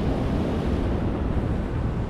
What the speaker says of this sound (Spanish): El mar está un poquito bravo